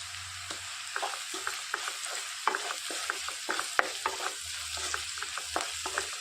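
Onions and spices with turmeric sizzle and fry in a pan while a utensil stirs and scrapes in repeated short strokes; no one speaks.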